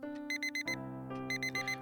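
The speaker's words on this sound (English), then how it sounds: "Can somebody get that alarm clock?" An alarm clock in the video game Lust Shards rings in loud, bright electronic bursts of rapid beeps, two clustered volleys repeating over a sustained tone, close and alone without speech.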